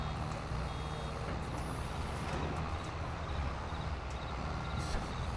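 A farm vehicle in a farming video game sounds reversing beeps, a steady repeating electronic tone over a low engine drone that holds through the whole stretch.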